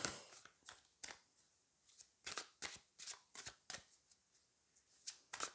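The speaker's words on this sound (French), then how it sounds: "j'ai essayé de les mélanger sans les faire tomber, parce qu'elles glissent tellement, ces cartes" Slippery playing cards being shuffled by hand, a series of crisp riffling bursts in quick succession with brief pauses between them, close and fairly quiet, no talking.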